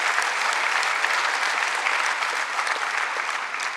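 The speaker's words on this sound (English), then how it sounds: "So please clap for yourself." An audience of new medical students at a white coat ceremony at Kasturba Medical College, Mangalore, applauds in a steady, dense wash of clapping that stays loud and even throughout.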